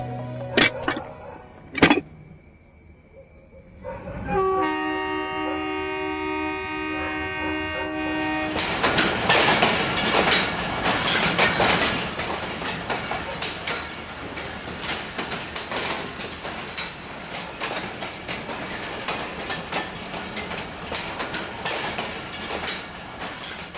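A train rolls along the rails, starting with a few sharp knocks and a steady tone before building into a loud, continuous rumble and clatter that holds to the end.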